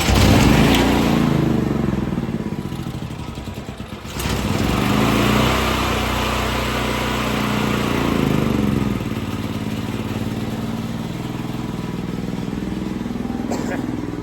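A small gasoline engine idles on partial choke, a steady close buzzing drone that dips briefly near the start and then settles into an even, slightly uneven running note.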